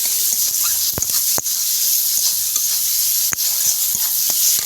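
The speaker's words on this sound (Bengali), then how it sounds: "ভাই কড়াটা নাড়ছে নারকেল কুচি দেওয়ার পর মশলাটা সুন্দর করে পরিপাক করে নিচ্ছে" Spices and grated coconut for vegetarian taro greens stirred in a wok, a steady loud sizzling hiss with occasional sharp scraping clicks from the utensil, no voices.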